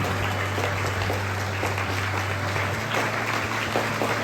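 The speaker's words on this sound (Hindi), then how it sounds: "ये तालियों की गड़गड़ाहट" Audience applause at a Shimla event honouring meritorious students, a steady dense wash of clapping throughout with a low hum underneath and no talking.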